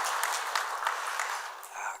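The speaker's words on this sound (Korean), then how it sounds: "우리 사랑과 또 축하의 박수 한번 드리도록 하겠습니다." Congregation in a church service applauding in congratulation, a steady wash of many hands clapping together at moderate level for about two seconds, fading slightly near the end.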